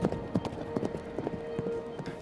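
Horse hooves clip-clop at a steady trot through countryside, with a run of distinct, fairly close hoof strikes over a low background hum.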